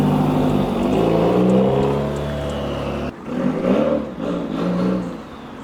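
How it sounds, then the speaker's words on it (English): A car engine revs hard while its tires are spun, a loud close sustained drone with rising and falling pitch, a brief cut in the middle and then renewed surging revs. "let me check it after I rip these tires"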